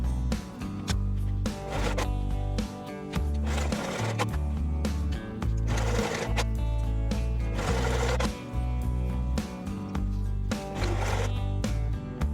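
A sewing machine stitching fabric up close, a fast steady mechanical chatter that runs in bursts with brief pauses between seams, loud and alone.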